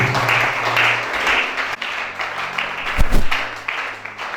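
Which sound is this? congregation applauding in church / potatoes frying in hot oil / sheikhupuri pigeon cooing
congregation applauding in church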